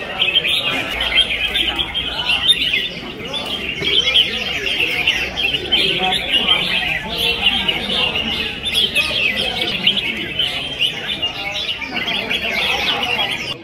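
Competition songbirds at a bird-song contest arena of the Đông Triều club in Quảng Ninh keep up loud, dense chirping and trilling throughout, with faint voices mixed in the background.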